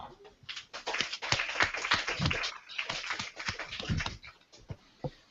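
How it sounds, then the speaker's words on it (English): A small meetup audience gives a brief round of applause for competition winners, scattered close claps swelling and thinning out over a few seconds in an indoor room. "maybe we can give you a warm round of applause"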